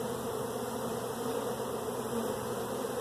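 Dense, steady honeybee buzzing fills the air around an open hive during a brood inspection, a continuous close drone that holds at an even level throughout with no voices.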